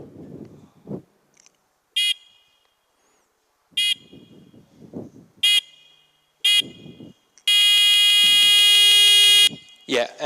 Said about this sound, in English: We had a small buzzer that buzzed every time we sold one copy of CSS Hat.